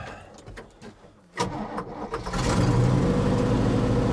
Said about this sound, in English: We're going to do the burnouts in the dirt.